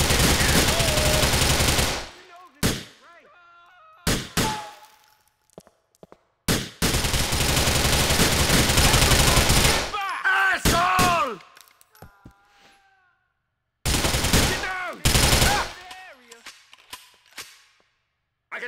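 Automatic gunfire in the video game GTA 4, long loud bursts broken by short pauses, with game voices speaking between the volleys.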